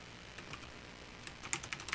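Keys clatter softly on a computer keyboard as text goes into Notepad, light scattered taps that grow into a quicker burst of clicks near the end, faint and close.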